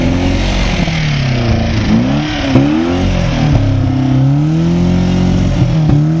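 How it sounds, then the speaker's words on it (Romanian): A BMW rally car engine revs and accelerates in repeated rising and falling sweeps, loud and close, sustained across the whole stretch with no talk. "Auzi și cum accelerează așa."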